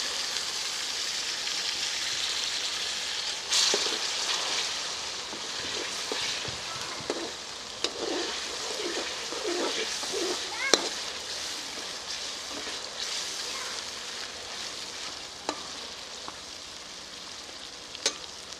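Half a kilo of tomatoes frying with ginger and garlic in a karahi for quail karahi, a steady close sizzle with soft stirring scrapes and occasional sharp pops, no voices.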